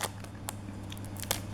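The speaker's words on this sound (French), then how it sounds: "On va les ouvrir au ciseau." Scissors snip open sealed trading card packs in a few short, crisp cuts, with quiet rustling of the foil wrappers between them, close and fairly soft, with no one talking.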